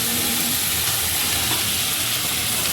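Potatoes sizzle and fry in hot oil in a pan while being stirred, for a Bengali boal fish curry; a steady, loud, close frying hiss continues throughout without a break.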